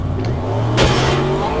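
A car engine in the video game Fortnite revs up in a steady mid-pitched drone, with a brief swell of noise partway through, close and loud.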